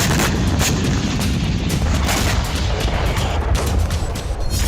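Drone strikes on Russian targets near Moscow, in Tver: a dense, continuous barrage of booming blasts and crackling detonations, loud and sustained with no pauses.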